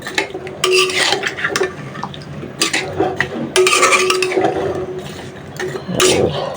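A spatula scrapes and clatters around a metal karai while a curry of jackfruit seeds and vegetable stems is stirred, with loud, close bursts of rough scraping in an uneven rhythm and no voices.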